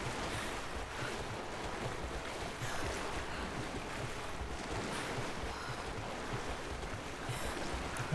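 Water swirls and sloshes steadily as a character swims in Rise of the Tomb Raider. The sound is a constant rushing wash at low volume with no talk.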